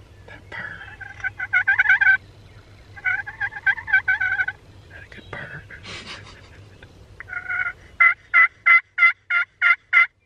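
Wild turkeys gobble repeatedly during a spring hunt. The bursts are loud and come in several rounds, ending in a fast, close series of about eight gobbles.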